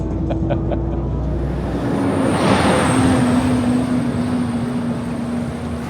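Inside a moving bus on a cold early-morning ride, a steady engine rumble and road noise fill the clip, with the drone shifting slightly as the vehicle travels.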